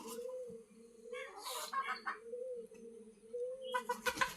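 Fayoumi hen and a local rooster cluck in short bursts near at hand, over a steady low hum, with a louder flurry of calls toward the end.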